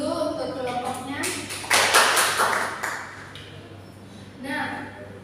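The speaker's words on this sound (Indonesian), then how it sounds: "Beri aplaus dulu untuk kelompoknya." Applause for a student group in a chemistry classroom, a burst of clapping from the class that swells for about a second and fades, with a teacher's voice speaking before and after.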